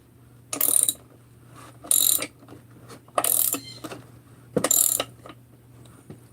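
A ratchet drawing a crankshaft into its bearing during crankcase assembly, four short bursts of close, loud clicking separated by pauses over a faint steady hum.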